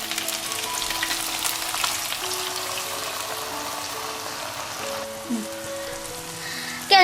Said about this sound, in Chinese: 我们加入我们调好的酱汁。